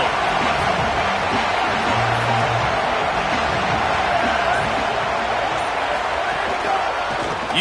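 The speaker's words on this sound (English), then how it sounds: "This crowd ready to make its presence known." A college football stadium crowd roars continuously, a dense, loud wash of cheering and hubbub that holds steady throughout with no break.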